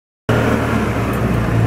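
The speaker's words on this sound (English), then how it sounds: "next up is taking the Vespa, this guy, to the car wash" Vespa scooter being ridden, its small engine droning steadily and loudly after an abrupt start, with wind and road noise mixed in and no voices.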